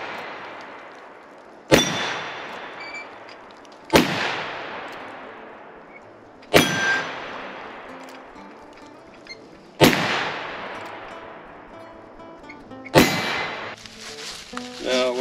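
Five loud, sharp shots ring out from an Uberti 1873 single action revolver and other guns, each a hard crack with a long ringing decay, spaced roughly every three seconds.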